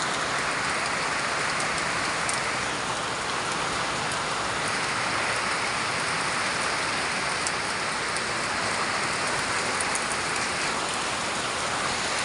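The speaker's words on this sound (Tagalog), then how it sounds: "Ang lakas-lakas ng buhos ng ulan." Heavy rain pours down during a November 1 holiday downpour in the Philippines, a dense, continuous roar of drops hitting nearby surfaces at a steady, loud level without a break.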